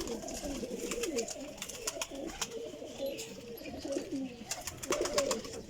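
Desi golden teddy flying pigeons coo in a loft, giving repeated soft, rolling calls from several birds at once, with faint chirps and clicks mixed in.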